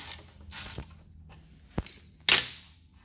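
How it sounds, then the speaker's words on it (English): A 19 mm cap being unscrewed on a Teryx 800 steering rack: a few separate metallic clicks and scraping ratchet-like bursts, close and fairly loud, with short quiet gaps and no talking. "This cap right here will be coming off next. It's a 19 millimeter. Just unscrew it."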